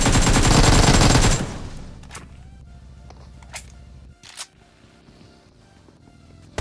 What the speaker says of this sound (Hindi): पीछे वाली बिल्डिंग से किसी ने M4 चलाई